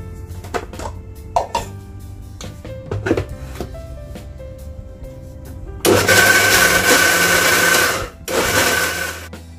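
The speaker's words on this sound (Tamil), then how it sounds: "இப்போ இதை மூடி போட்டு ஒரு சுற்று சுற்றி அரைச்சி எடுத்துக்கலாம்." Banana paniyaram batter is ground in a mixer grinder, starting with lid and jar clatter, then a loud, dense motor whir that runs about two seconds, breaks briefly, and resumes close up.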